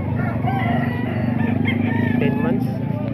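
Roosters crow at a market amid a dense hum of engines, with several voices talking close by over the calls.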